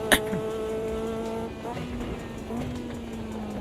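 A Caterham race car engine in a racing video game holds a steady high whine, rising slightly in pitch, with a brief sharp burst at the start and faint talk underneath.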